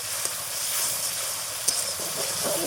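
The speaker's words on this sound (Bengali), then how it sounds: "এইভাবে মশলাটা কষাতে কষাতে পেঁয়াজ রসুনের কাঁচা গন্ধটা যখন চলে যাবে" Spice masala with onion and garlic being fried in oil, a steady close hiss and sizzle running throughout, with a couple of brief sharper crackles and no voices.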